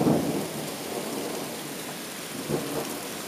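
Rain falls steadily through a night thunderstorm, with a deep rumble of thunder up front that fades and a second, softer roll a couple of seconds later, all without voices.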